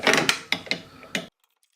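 A 1972 Honda CB350T engine turned over by hand with the cam chain tensioner released gives several close mechanical clicks and ratcheting creaks in an uneven rhythm, then falls silent.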